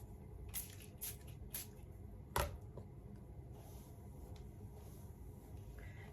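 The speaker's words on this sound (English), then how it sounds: "I usually only do like 1 or 2 squirts, but I missed the first squirt" Heat protectant spray squirted onto a section of hair during a body wave wig styling, a few short hissing spritzes, the loudest one sharp and close, over faint room noise.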